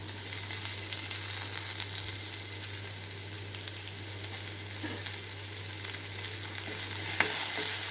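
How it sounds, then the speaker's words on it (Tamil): Onion and tomato sautéing in a pan for kaara chutney, a continuous close sizzle and frying hiss with occasional stirring scrapes, ending in a brief louder stir. "இந்த சமயத்தில் டொமேட்டோ ஆட் பண்ணி நல்லா ஒன்று சேர வதக்கி எடுத்துக்கலாம்."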